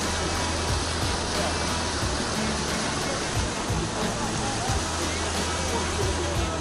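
A mountain river rushes steadily near Hoverla in the Carpathians, a dense, continuous roar of flowing water heard close by, with no break across the stretch.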